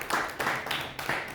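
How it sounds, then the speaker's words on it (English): Conference attendees clap for a team launching an app, giving a short, close run of applause in three or four swelling bursts, moderately loud. "Can we just give them a round of applause?"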